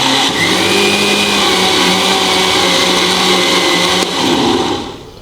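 Kitchen blender churning cold cream for homemade ghee, a loud, steady motor whine running close up for several seconds before winding down at the end.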